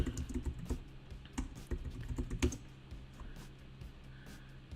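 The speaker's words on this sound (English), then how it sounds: "Even as I'm typing this, I actually don't want to do this." Fast, continuous tapping on a computer keyboard, close and fairly quiet, with uneven bursts of clicking keys and no talking.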